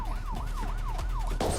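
Ambulance siren in a film soundtrack, a wailing tone rising and falling about every quarter second over a low engine drone, cut off by a sudden burst of noise near the end.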